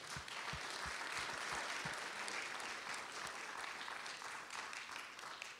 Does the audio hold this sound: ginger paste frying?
no